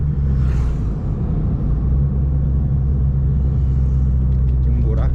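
Chevrolet Corsa 1.4 with its original engine and a sport exhaust rumbles steadily, a deep, loud, continuous low growl close by with no break.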